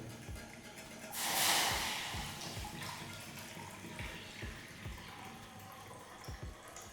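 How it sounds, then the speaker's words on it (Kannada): Water is poured into a pan on a lit gas stove for cooking Maggi noodles, a steady splashing rush that swells briefly near the start and then settles into a softer, continuous trickle with faint knocks. "ನಂತರ ನೀರು ಹಾಕಿ ಹೋಗ್ತೇವೆ."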